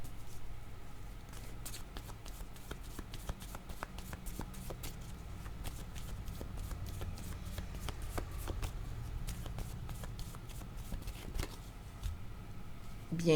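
Tarot cards are shuffled by hand in a continuous, close, papery riffling patter that holds steady throughout.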